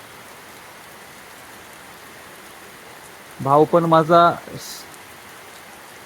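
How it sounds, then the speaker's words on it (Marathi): Heavy rain falls steadily in a rural Maharashtra village, a dense, even hiss that runs unbroken throughout. A voice speaks briefly partway through. "आता जोरात पाऊस येतोय."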